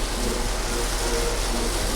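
Rain falls steadily as a continuous, even hiss of drops that stays level throughout with no other sounds.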